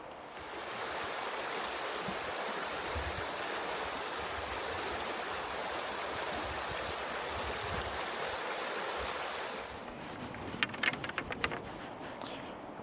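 A rain shower falls steadily over a Welsh garden, a soft continuous hiss for about ten seconds before it thins out into scattered drips and patters.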